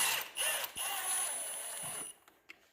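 An impact wrench runs bolts down on a VQ engine, giving a close, sustained whirring drive of about two seconds that stops and leaves near silence with a couple of small clicks.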